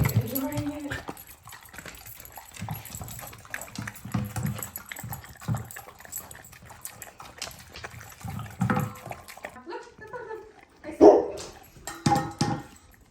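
Two pet dogs eat raw dog food, wet lapping and chewing sounds mixed with soft whimpers and people talking nearby, with a sharper burst of activity near the end.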